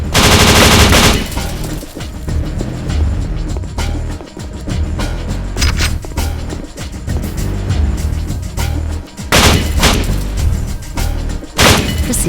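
Machine gun fire from the video game Kill Switch, dense loud bursts of automatic gunfire running almost continuously with short gaps, mixed with game background sound and no talk.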